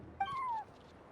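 A single clear meow from a cat in the video game Genshin Impact: one short, bright, falling call heard alone, with no talk.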